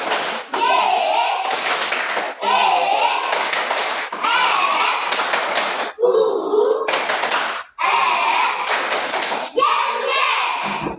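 An Indonesian classroom of children performs the Tepuk Yesus clapping routine as an icebreaker, with bursts of rhythmic group clapping and children's chanting voices, repeated in several sections separated by short pauses.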